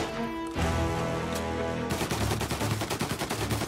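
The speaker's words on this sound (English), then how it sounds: "Who is shooting me?" Gunfire in Mafia: Definitive Edition, a loud close shot followed by rapid repeated bursts of automatic fire in a tight, fast rhythm.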